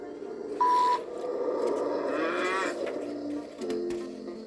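A low, drawn-out moo from a cow, fairly close, with a brief electronic beep near the start and some background noise.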